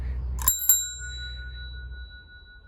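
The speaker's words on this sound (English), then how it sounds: "The bell is one I had in my collection, Lucas Meteor, excellent ringers." Lucas Meteor bicycle bell from the 1960s, fitted to a vintage Raleigh Superbe, gives two quick bright dings and then a long clear ringing decay.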